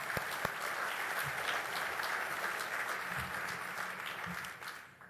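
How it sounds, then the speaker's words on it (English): A large crowd of attendees at a trade association's annual general session claps steadily and loudly in a dense, sustained burst, then fades out toward the end. "So a round of applause for those folks."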